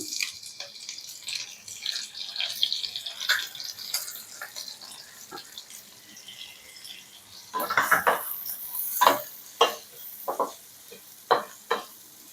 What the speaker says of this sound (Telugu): ఇప్పుడు అన్ని వెజిటేబుల్స్ వేసుకొని ఫ్రై చేసుకుందాం